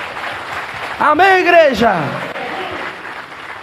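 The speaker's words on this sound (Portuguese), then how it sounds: "Então aplauda Jesus mais uma vez." A church congregation applauds during a Sunday service, a diffuse patter of clapping running throughout while a preacher's loud voice calls out over it partway through.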